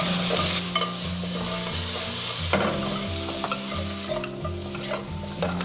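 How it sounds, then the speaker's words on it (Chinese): Pork ribs stir-fried with star anise, bay leaves, ginger slices and scallion pieces over medium-low heat, a steady close sizzle broken by repeated scraping stirs of the spatula in the wok, with no talking. "翻炒的时候火不用开特别大哈，全程中小火炒"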